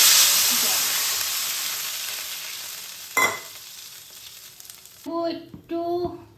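Dried raw mango slices (amshotto) frying in hot oil in a pan, a loud sizzle that gradually fades, a brief scrape of stirring midway, then someone talks briefly over the quieter frying.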